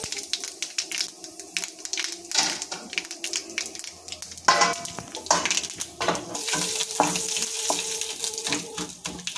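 Urad dal fries in hot oil for tamarind rasam with a crackling sizzle. A sharp burst arrives midway, and clinks and a low voice mix in.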